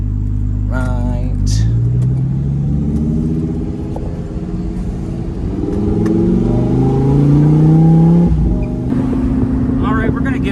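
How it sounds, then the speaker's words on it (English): A bright orange Lamborghini Huracan EVO Spyder engine rumbles and rises in pitch as the car accelerates, a loud close growl climbing through the gears while a person talks over it. "we're gonna give it a mild pull here in a second"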